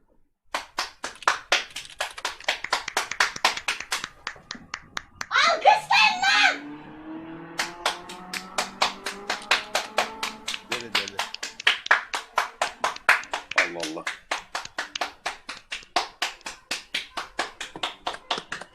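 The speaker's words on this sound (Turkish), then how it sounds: "Hala alkışlıyor." Neighbours clapping from their apartment building during the 2020 lockdown, a steady stream of crisp handclaps heard at a distance, broken midway by a burst of cheering and children's voices before the rhythmic applause resumes.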